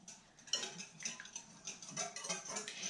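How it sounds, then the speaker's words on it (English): Salad dressing for a spaghetti squash and tuna salad is whisked in a bowl, giving quick, irregular light metallic clicks and taps against the bowl, fairly faint and with no speech. "Let's whisk that together."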